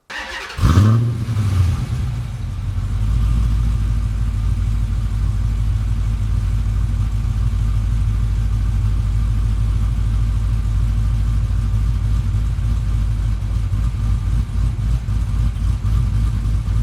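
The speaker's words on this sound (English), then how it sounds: "So just for reference, here's how my exhaust sounded before." Dodge Challenger exhaust fitted with headers, a 3-inch mid pipe and a cam, starting up and settling into a loud, steady, deep idle rumble, heard alone and up close for the whole stretch.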